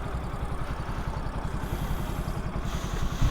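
A Yamaha YBR 125cc motorcycle engine runs close by with a steady, thumping mid-range chug and a light mechanical clatter throughout, and no talking.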